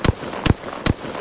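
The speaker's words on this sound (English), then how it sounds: "Throw my grenade out" Three sharp, evenly spaced blasts about half a second apart ring out close and loud in a grenade explosion within Apex Legends gameplay.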